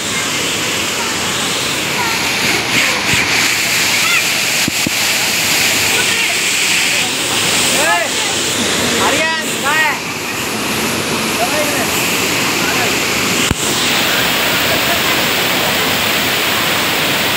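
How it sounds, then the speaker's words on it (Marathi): Thoseghar waterfall roars as a steady, loud broadband rush in the rain, continuous throughout with people talking over it. "मस्त, खूप मस्त धबधबा."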